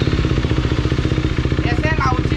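KTM Duke 390 BS4 motorcycle fitted with an Austin Racing aftermarket exhaust, running close by with a loud, rapid, steady pulsing idle, with voices briefly audible near the end.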